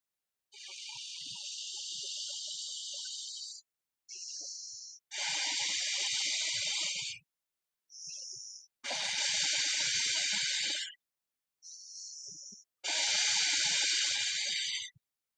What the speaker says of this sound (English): You're going to see air that's going to come out of the spigot right here and the spigot right there.